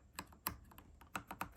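Typing on a Cherry red switch mechanical keyboard for Mac: a close, quiet run of separate key clacks in an uneven rhythm, with no talk.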